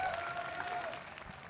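Hometown esports arena fans applaud DRX during a Champs 2024 Valorant match against Fnatic, a steady, fairly faint wash of clapping spread through a large indoor crowd, with no voices standing out.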